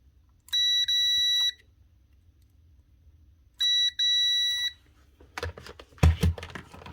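Two short, shrill electronic beeps come from a multimeter continuity test, touched between its probes on the motor switch of an Alfra 35B magnetic drill, with quiet pauses between them and a few clattering handling noises at the end.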